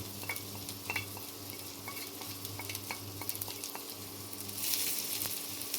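Sliced carrots and onion rings frying in oil in a pan, with a soft continuous sizzle and light scraping and stirring clicks up close, growing a little louder near the end.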